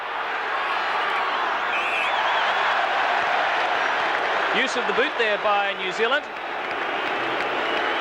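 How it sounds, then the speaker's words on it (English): A packed rugby stadium crowd at a 1984 Bledisloe Cup test between Australia and New Zealand keeps up a steady roar of cheering and applause, with a commentator speaking over it. "As you can hear, there is a very big New Zealand support in the crowd today."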